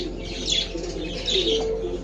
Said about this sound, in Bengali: অনেক ধরনের কবুতর আছে এখানে।